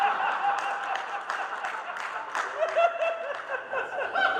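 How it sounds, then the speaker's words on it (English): A roast crowd erupts in mixed laughter and applause, chuckles and scattered clapping rolling together continuously at moderate loudness, rising in a few brief peaks. "And that's how you get an applause break"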